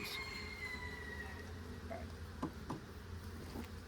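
Honeybees hum faintly from an open hive during an inspection, a steady low drone with a few brief louder buzzes passing near.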